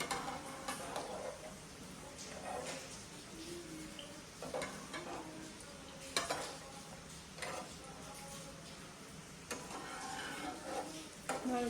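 Hot cooking oil sizzling in a pan during heavy rain, a faint steady fry broken by stirring scrapes and clinks of a utensil against the pan.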